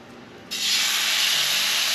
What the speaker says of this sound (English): And we're going to fry off our steak.